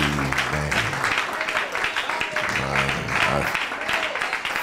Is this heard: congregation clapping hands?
yes